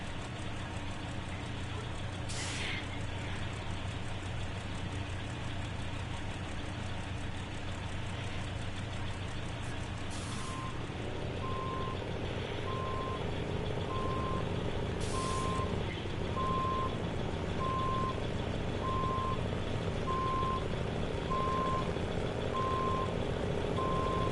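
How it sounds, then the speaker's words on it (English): A truck in SnowRunner with its Jake brake stuck on, a steady loud droning rumble running throughout, joined midway by a repeating reversing beep and a few brief hiss bursts. "It just sounds like your Jake brake is just stuck on"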